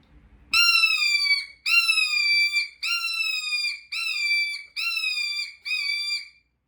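A turkey hunting call imitating a hawk: six loud, piercing, slightly descending screams, each held about a second with short gaps between, clear and alone against silence.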